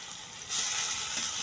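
Garlic hits hot oil in a pan along with fried onion and chili, and the sizzle swells abruptly into a bright, steady hiss.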